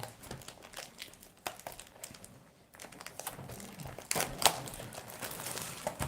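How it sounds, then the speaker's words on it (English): Scissors snip and crinkle through the plastic wrap of a Dragon Ball Super Card Game Battle Evolution booster box, with close, irregular crumpling and tearing rustles that grow louder toward the end. "So scissors are gonna have to do."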